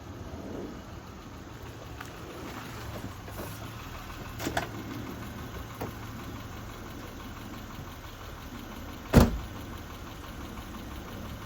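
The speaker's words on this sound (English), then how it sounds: "Throw the wheel on, button everything up, and let's take her for a test drive." A 2006 Saturn Vue running before a test drive after a front and rear brake job: a low, steady engine idle, fairly quiet, with a few faint knocks and one sharp clunk near the end.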